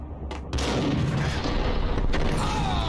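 Loud, dense gunfire erupts in the Max Payne video game, a heavy continuous roar of shots and booms filling the whole stretch without a break.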